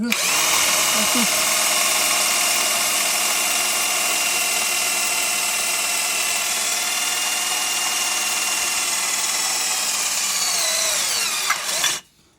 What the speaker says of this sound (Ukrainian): Трохи шуруповерт сівший, але як бачимо, сверлить.